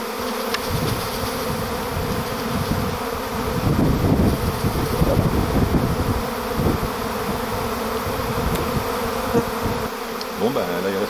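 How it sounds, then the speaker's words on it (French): A large honeybee swarm buzzes steadily around a bag at a château, a dense, continuous droning hum that swells slightly in the middle and stays close throughout, with no talking. "Surveiller celles qui volent pour voir si c'est pas un deuxième essaim qui est en train de se faire la malle."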